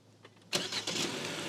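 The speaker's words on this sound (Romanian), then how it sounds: "Pornește motorul, tăticule! Kia!" A Kia K5 GT Line with a 1.6 turbo engine starts up: the starter catches abruptly after a quiet moment, then the engine settles into a steady, close idle.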